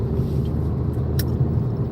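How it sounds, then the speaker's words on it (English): A school bus rumbles past on the road, a steady low engine drone heard from inside a moving car, with a short hiss near the middle. "Oh, that's a school bus."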